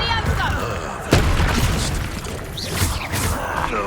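Spell blasts from Bombarda and Confringo in Hogwarts Legacy land during a combat scene. A sharp impact boom is followed by crackling magical bursts and whooshes, layered over a busy mix of battle effects and voices.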